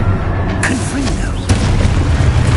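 Blasting explosion from the Confringo spell in the Hogwarts Legacy video game, a dense booming roar that stays loud throughout, with a sharp burst partway through and game sound layered over it.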